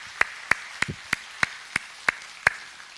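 Slow, evenly spaced claps sound in a church, about eight crisp hits at a steady beat over a quiet background.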